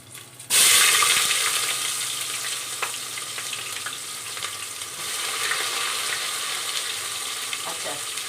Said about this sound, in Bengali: এবার আমি দেবো পেঁয়াজ।